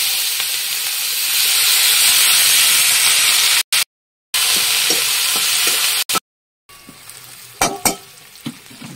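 Small fish sizzling loudly in hot oil in a pan, a dense continuous hiss broken by short gaps, then quieter frying with a few clinks and spatters near the end.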